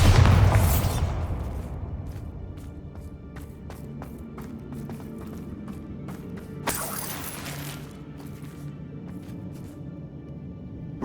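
A Bombarda blast spell going off in a goblin mine in Hogwarts Legacy: a loud explosive boom with shattering debris that fades into scattered clatter, then a second crashing burst partway through.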